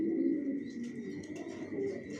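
A male racing pigeon sitting on eggs in a loft gives low, soft coos that stand out against a quiet background. Faint chirps from other birds can be heard further off.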